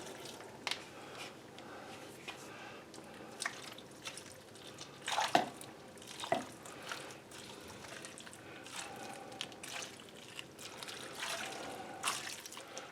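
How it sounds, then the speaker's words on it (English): Room-temperature water pours and trickles steadily into a pot over potato soup ingredients, with splashy dribbling and a couple of louder drips midway, fairly quiet and close. "put 3 cups of room temperature water on top of all this"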